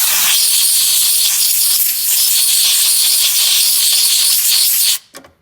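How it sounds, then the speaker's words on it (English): Long compressed air hose blowing debris out of a spot on a 2003 Volvo V70 XC, a loud continuous close hiss that cuts off abruptly near the end, followed by a short puff. "I'm using a combination of that and this long air hose to blow out the"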